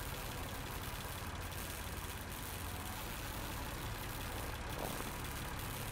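Diesel generators running inside a shed in a video game, a steady low droning engine hum with a constant rumble, continuous and unchanging throughout.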